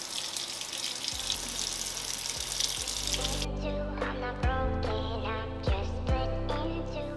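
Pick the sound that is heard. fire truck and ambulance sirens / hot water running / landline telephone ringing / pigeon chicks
hot water running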